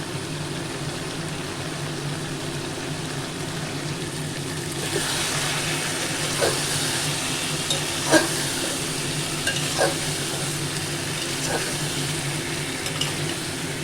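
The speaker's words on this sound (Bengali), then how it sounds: "আলু বেগুনটাও মশলা পেঁয়াজের সাথে ভাজবো আর তার এর মধ্যে আমি যে মশলাটা করে রেখেছি আদা রসুনের এটাও দিয়ে দেবো আদা রসুনের পেস্টটা দিয়ে একটু কষিয়ে নিচ্ছি" Ginger-garlic paste frying with potato and eggplant in a pan, a steady sizzle that grows brighter midway, with occasional scraping stirs and a few sharper clinks of the utensil.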